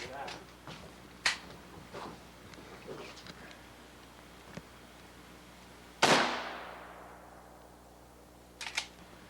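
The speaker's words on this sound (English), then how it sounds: "Gary will now attempt to hit the Budweiser can at 75 paces. Should be able to do it at 75 paces, unless the gun's off" A rifle shot fired at a Budweiser beer can from 75 paces rings out as one loud, sharp report with a long fading echo, after faint clicks and handling noises in a quiet outdoor setting.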